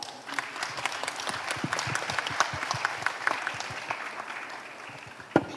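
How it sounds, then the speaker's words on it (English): An audience at a solar industry event, Indosolar x ISEW, gives the panel a sustained round of applause, many hands clapping together at moderate distance with a few louder claps near the end. "Please join me in a round of applause."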